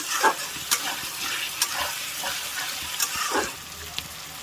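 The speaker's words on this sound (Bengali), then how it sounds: "এবার দিয়ে দিচ্ছি দুটো গ্রেড করা টমেটো" Grated tomatoes are added and stir-fried in a pan for a jackfruit curry, producing a soft hiss with repeated spoon scrapes and stirring strokes, close and fairly quiet, no talking.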